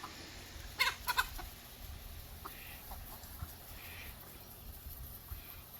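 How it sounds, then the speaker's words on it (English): An Australorp hen clucks a few times close by, soft short calls over a quiet outdoor background. "Guess that's my black hen, my Australorp hen."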